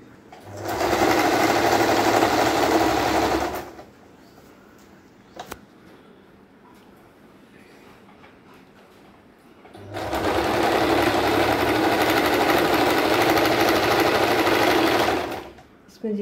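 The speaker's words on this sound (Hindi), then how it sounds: "अब इसके ऊपर से इसी हिसाब से इस पर हम सिलाई लगाते हैं।" A sewing machine stitches a cushion cover in two loud, steady bursts of about four and six seconds, separated by a quieter pause with faint handling noises.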